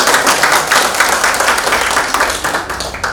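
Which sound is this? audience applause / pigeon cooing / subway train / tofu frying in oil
audience applause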